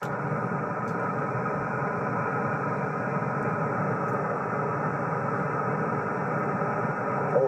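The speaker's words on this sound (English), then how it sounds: "We're right next to train tracks, and a train just came past" A train rolling past right beside railway tracks next to an amateur radio station setup, a steady, loud low rumble with rail hum that continues without pause for the whole stretch.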